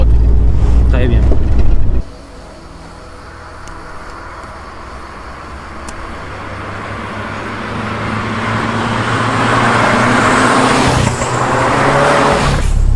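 A first-generation Renault 5 Turbo being driven: a voice talks briefly over a loud engine, then the engine drones steadily from inside the car and gradually swells as the car accelerates.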